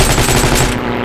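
Rapid automatic gunfire from a Heroes & Generals World War II battle, a loud continuous burst of shots lasting about a second with no talk over it.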